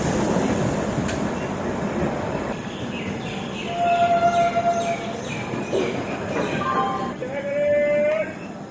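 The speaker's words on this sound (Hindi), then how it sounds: "हमारी ट्रेन पहुंच चुकी है बीना रेलवे स्टेशन पे" Gondwana Express train pulling into Bina railway station, with broadband rumble of the moving carriages, a few tonal brake squeals and whines, and voices talking over the rolling noise.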